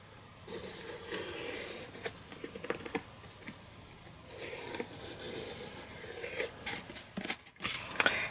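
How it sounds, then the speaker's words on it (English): Scissors fussy-cut a paper pumpkin shape along a pencil line, producing close, continuous scratchy snips and rustling paper, with irregular bursts of cutting that pause and resume. "fussy cut round the line. Angle your scissors and move the paper and not the scissors"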